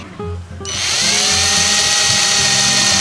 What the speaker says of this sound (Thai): เราค่อยๆปั่นนะครับ ใช้ สว่านเบอร์ใกล้เคียงกับตัวขนาดของ สายไฟนะครับ